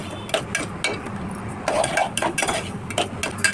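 Barnyard millet grains (vari rice) being dry-roasted and stirred in a pan, with repeated scraping and light clinks of a spoon against the metal, steady and close.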